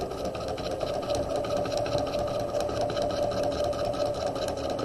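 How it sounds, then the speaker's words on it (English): Steady close whir of a sewing machine back stitching a jacket collar facing, continuous and even throughout with no talking. "We're going to back stitch"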